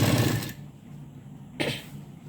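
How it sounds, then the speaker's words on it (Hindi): A sewing machine stitches a blouse: one loud run of stitching that stops within half a second, then a shorter burst after a pause, over a quiet background hum. "इस तरीके से यहाँ पर सिलाई लगानी है।"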